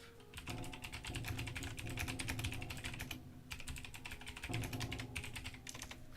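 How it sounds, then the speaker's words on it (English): Fast, loud typing on a computer keyboard, close up, with dense rapid key clicks running steadily for several seconds and a brief pause midway. "Sorry for the loud typing."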